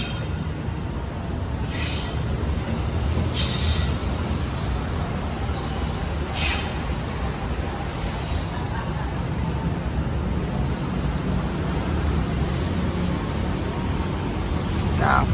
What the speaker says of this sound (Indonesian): kereta api Jayabaya telah meninggalkan stasiun Surabaya Gubeng